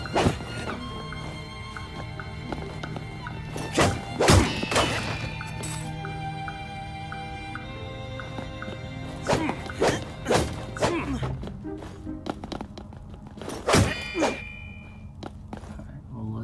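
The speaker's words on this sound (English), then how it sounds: "we'll just break all those barrels then" Wooden barrels being smashed in the Oceanhorn 2 game inside an old pirate hideout, a series of sharp clattering cracks and thuds scattered over game music and effects, loudest in separate bursts.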